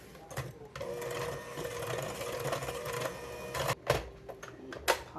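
Zucchini bread batter with a splash of vanilla being mixed, a steady close whirring drone for several seconds that breaks off into a few sharp clunks and knocks near the end.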